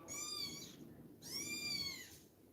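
A cat gives two clear, close meows, each a drawn-out whining call, separated by a short pause over faint background hiss.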